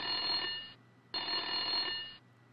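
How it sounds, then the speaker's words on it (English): Electronic telephone rings twice in a video game, each ring a sustained bright buzzy tone lasting under a second, separated by a short silent gap, clear and near with no talking. "Answer the phone."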